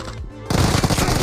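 Uzi submachine gun fire in a team-based shooter video game, a loud sustained rapid burst that cuts in abruptly after a quieter moment and keeps rattling to the end.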